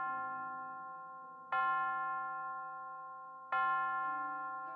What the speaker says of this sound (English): Rang the big golden bell.